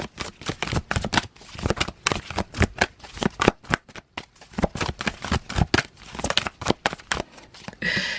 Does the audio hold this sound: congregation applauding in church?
no